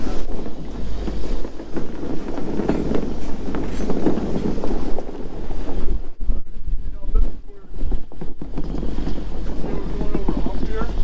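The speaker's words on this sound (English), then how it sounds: "that wind's picking up" Strong wind buffeting an outdoor microphone while a round barn is moved 1.5 miles, a loud continuous roaring rumble with gusts, under people talking.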